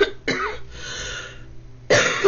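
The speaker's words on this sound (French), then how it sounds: "mais je tousse encore" A single person coughs twice, close and loud, with a short raspy pause between the bursts and no talking.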